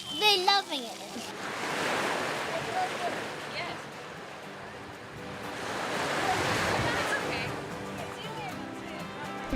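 Surf washing ashore at the beach in Ballygally, swelling twice into broad, steady roars over gusting wind noise; people talk at the start and then intermittently under the waves.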